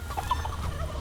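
Turkey chickens in the game Dungeons 4 give a few short clucking calls over a low background rumble.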